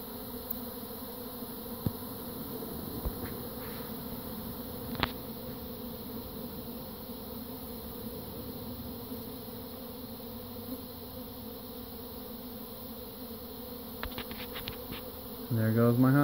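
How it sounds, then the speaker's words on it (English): A large swarm of bees drones steadily around the listener outdoors, a dense continuous buzz with individual insects passing close and a few soft knocks, and a louder rustle at the very end. "that's a lot of bees."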